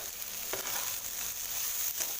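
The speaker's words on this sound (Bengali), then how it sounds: "বন্ধুরা দেখো সবজিটা একটু ভাজা হয়েছে" Chopped vegetables fry in a pan with a constant bright sizzle and a couple of faint stirring scrapes, close by and with no speech.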